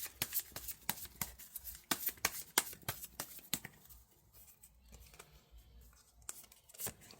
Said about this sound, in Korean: 카드를 뽑아보도록 하겠습니다